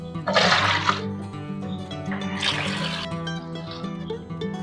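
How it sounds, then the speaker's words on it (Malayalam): Cauliflower is rinsed under a running kitchen tap, with two strong gushing bursts of water on either side of a steadier trickle and splashing, close and loud, with no talking. "ഞാനിത് കോളിഫ്ലവർ ഒന്ന് നന്നായിട്ട് കഴുകിയെടുക്കാം"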